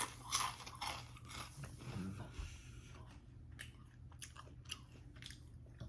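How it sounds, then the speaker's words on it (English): Cheetos crunch between the teeth in close, crisp bites, a few sharp crackles then softer chewing, quiet and near with no talk. "Just listen to this crunch."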